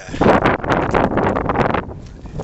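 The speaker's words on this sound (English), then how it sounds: "A bit windy." Wind at a night wild camp, irregular gusts buffeting close to the microphone in rough bursts that ease toward the end.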